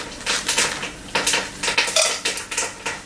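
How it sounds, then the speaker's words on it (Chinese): Lumps of rock sugar drop into a pot of braised pork belly, making a rhythmic series of hard, close clinks and rattles, each burst quickly fading, with no talk. "然后我们就把这个冰糖放下去"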